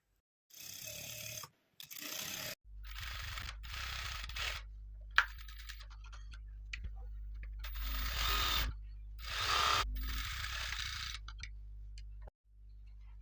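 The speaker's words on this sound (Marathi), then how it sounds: "तर आता चला टीप मारून घेऊया गळ्याला आणि कमराला" A sewing machine stitching the neck and waist edges of a lace blouse, running in several stop-start bursts of fast, whirring stitching, close and clear, with no talking over it.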